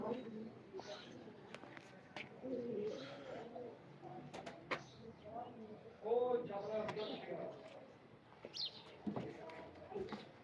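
Pigeons at a show coo softly and repeatedly at a distance, mixed with faint chirps. People talk over the birds throughout.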